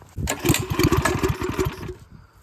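A small mini bike engine catches and roars to life on a trail, a rapid sputtering putter with dense firing pulses for about two seconds before cutting back to near quiet.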